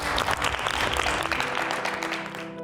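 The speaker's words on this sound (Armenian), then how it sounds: "Հիմա այս պահին մենք կարող ենք ծափարություններով հաջողություն ասել Էրմինային։" A studio audience on a game show applauds in a dense, sustained burst of clapping that fills the room, then quickly fades out.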